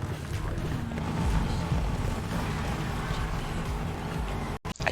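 A vehicle drives in the racing game Need for Speed Heat, a steady loud engine and road roar running throughout with wind-like rush, ending in a brief dropout.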